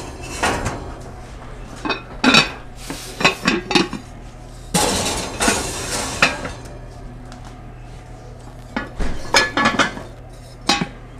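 Enamel or cast iron bread pots with lids clank and clink as they are handled and slid into an oven that is heating to 500, with a series of sharp metallic knocks close by.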